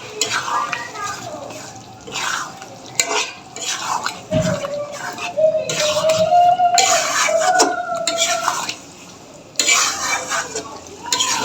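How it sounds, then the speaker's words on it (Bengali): Fried chicken pieces stirred into cooked-down masala in a pan for chicken biryani, giving repeated scraping stir strokes over a steady sizzle, close and fairly loud, with a brief clatter of pan or utensil. "আমি এখানে ভেজে রাখা মাংসগুলো দিয়ে দিচ্ছি।"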